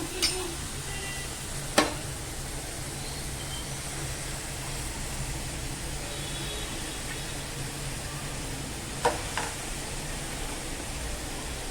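Chopped onion and phodshi, a wild monsoon vegetable, sauté in a pan with a steady, soft sizzle, broken by a couple of sharp utensil clicks.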